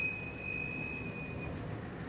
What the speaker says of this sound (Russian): Все, какой только вот тормоз пищит.